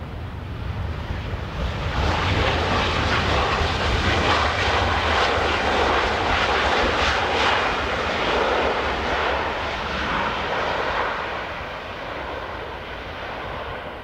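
A plane lands at Dublin Airport during crosswind arrivals. Its broadband jet roar is loud and steady, swelling slightly and then easing off toward the end, with no voices.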